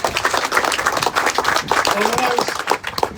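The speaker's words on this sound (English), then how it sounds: "Another round of applause for Nick." An audience applauds at a caboose unveiling event, a short burst of close, fairly loud clapping with voices murmuring underneath.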